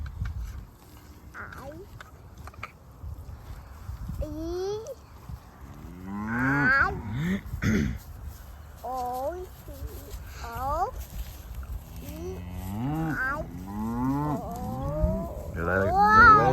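Several grass-fed cattle on pasture moo repeatedly, some low and drawn out, others rising, at moderate distance with rustling and soft movement between calls.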